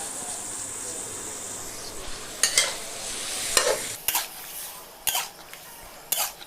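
Squid stir-fried over high heat in a pan for sweet squid, a steady sizzle broken by several sharp scrapes and clanks of the spatula against the metal.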